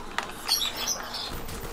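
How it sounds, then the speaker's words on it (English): A brief flutter of birds' wings taking off in Call of Duty: Black Ops Zombies, with a few faint chirps over a steady ambient background. "Oh, the birds."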